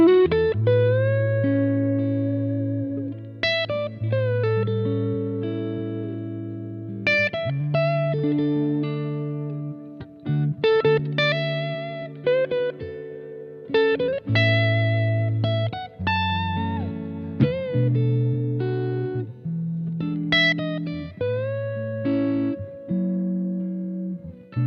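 A clean electric guitar plays a slow blues solo in A with bent notes and sustained phrases, leaving short pauses between licks, close and steady.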